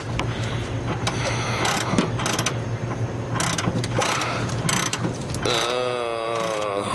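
Rapid clicking ratchet strokes come in bursts while bolts are pulled from the top of a strut on a 1992 Pontiac Grand Prix, close and metallic, ending in a rising mechanical whir.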